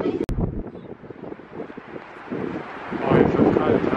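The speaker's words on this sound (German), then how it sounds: "Es ist auch schon windig geworden jetzt" Wind blows outdoors on a cold evening, a steady rushing buffet on the microphone that grows stronger toward the end, with a brief knock early on.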